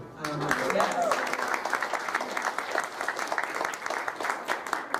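A crowd at a talk on public defense and criminal justice in Minnesota breaks into sustained applause, a dense wash of many hands clapping steadily for several seconds at even strength.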